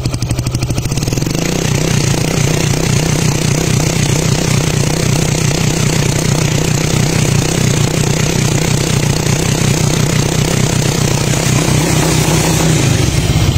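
A Suzuki Raider J Pro motorcycle engine, running abnormally, idles close by with a ringing exhaust, a continuous rattling, pulsing rumble that holds steady for the whole stretch before cutting off at the end.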